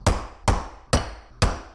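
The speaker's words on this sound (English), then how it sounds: "now I'm gonna center punch, try to be as accurate as possible" A hammer drives a center punch into metal pipe with four loud, sharp strikes at an even pace about half a second apart, each ringing briefly before fading.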